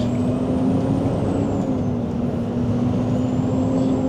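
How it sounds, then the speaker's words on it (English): Heavy traffic of trucks, coaches and vans streams into a busy road tunnel near a port, a loud continuous engine rumble with a steady drone and occasional high whine, and no one speaking. "it's like truck after truck, coach after coach, van after van"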